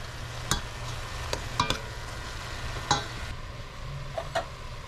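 Green beans, drained of their liquid, are stirred in a pot with a few distinct scraping clicks of a utensil against the pot over a low steady background hum, no talk.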